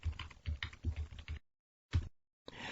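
Computer keyboard keys tapped in two quick bursts of several keystrokes, then a single press and another short burst after a pause, close and fairly quiet with no talking.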